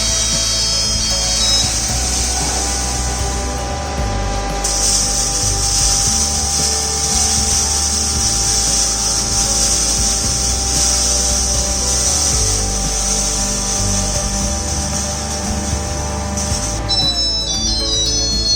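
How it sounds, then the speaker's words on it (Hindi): A fully automatic stainless steel commercial flour mill grinding grain whirs and grinds steadily at high pitch for a long stretch, a constant harsh mechanical drone without any voices. "यह fully automatic flour mill machine है"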